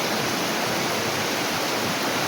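Water rushes steadily over rocks in a clear, cold mountain stream, a dense, continuous broadband wash close by with no voices over it.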